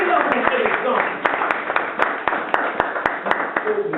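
A church congregation claps and applauds during a worship service, with sharp, fairly regular hand claps rising over a steady, moderately loud wash of voices and room noise.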